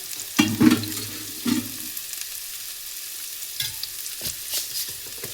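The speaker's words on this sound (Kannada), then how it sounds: "ಸೊ ಇವಾಗ ಇದಕ್ಕೆ 1 ಸ್ಪೂನ್ ಸಾಸಿವೆ, 1 ಸ್ಪೂನ್ ಜೀರಿಗೆ ಹಾಕಿದ್ದೀನಿ." Mustard seeds and cumin sizzling in hot oil in a pan, a steady frying hiss with a couple of stronger crackling spurts early on and a few faint pops later.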